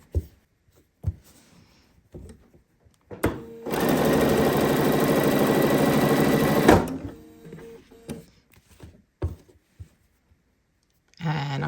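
A sewing machine stitches straight through a floral scrap quilt block, selvage included, in one steady, loud run of about three seconds. Brief handling clicks and short bursts of talk come before and after it.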